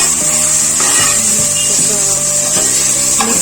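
Chicken pulao mixture being stirred in a pot, a steady scraping and rubbing of spoon against metal over a constant sizzle, with faint tonal squeaks and no speech.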